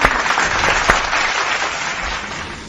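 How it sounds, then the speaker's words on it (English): A burst of crowd applause, loud and dense clapping that tapers off slightly toward the end. "let's give everyone a big round of applause"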